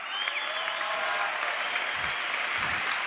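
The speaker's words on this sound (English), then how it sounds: "Clap it up if you're a fucking nerd." A crowd at a Gary Vaynerchuk talk breaks into dense, steady applause, which forms a continuous wash of clapping, moderately loud and unbroken, with no speech over it.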